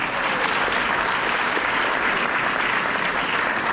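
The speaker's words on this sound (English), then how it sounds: "give yourselves a round of applause for talking about anime." An audience at a fan expo panel in Dallas bursts into sustained, dense applause, a steady wash of many hands clapping close by with no talk over it.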